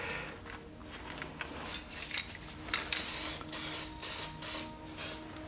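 Spray paint can hisses out light layers onto a canvas in short bursts and longer sweeping passes, close and fairly quiet with small clicks between sprays.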